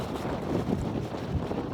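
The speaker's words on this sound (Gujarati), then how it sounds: "એ તો આ પવન તો જુઓ." Strong wind blows outdoors under a cloudy sky, a steady, loud, buffeting rumble that fills the whole stretch without pause.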